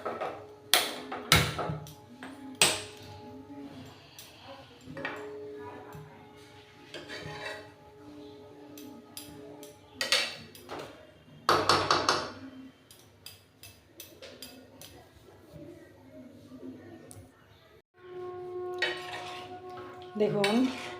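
In a kitchen making mango pickle, a metal pot lid is lifted, followed by a gas stove being lit, heard as scattered clanks, taps and clatter of metal, some sharp and close, between quieter stretches.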